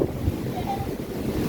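Wind blowing beside a small river on a November evening, a steady broad rushing roar with buffeting gusts on the microphone, close and continuous throughout.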